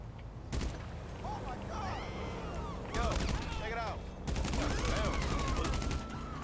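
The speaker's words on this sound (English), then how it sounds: "So you just want to shoot them" Gunfire in GTA 5 Online, with bursts of rapid shots in dense clusters over steady game background noise, growing louder in two heavier volleys near the end, while speech runs alongside.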